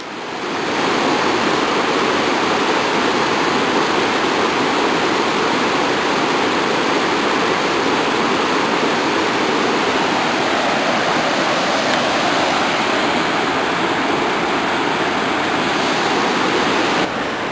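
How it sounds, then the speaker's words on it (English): A constant roaring rush of falling water at Dosewallips Falls, a waterfall, loud and steady throughout with no breaks. "There's Dosewallips Falls."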